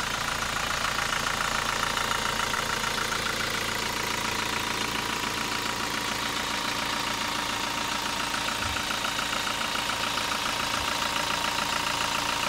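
A Toyota Fortuner 2.4 diesel engine idles with a steady, close, loud clatter and rumble that holds evenly from start to finish, with no voices.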